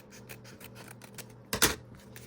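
Scissors snip through paper scraps for a small Day of the Dead junk journal, with faint quiet rustling and a single sharper, louder cut near the end, close by in a quiet room.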